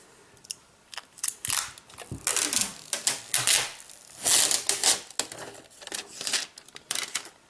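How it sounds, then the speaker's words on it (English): Protective plastic film is peeled off a Samsung Galaxy Tab 2 tablet in a run of close, crisp crackles and tearing rustles, uneven bursts with short pauses and no talking. "we're going to peel back the plastic"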